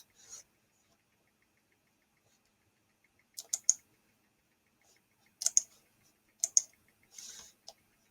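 Computer mouse clicks in quick pairs and short bursts, crisp and close, separated by quiet pauses, with no talking.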